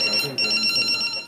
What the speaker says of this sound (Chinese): BB 声响起，机身的顶显示 BB 扣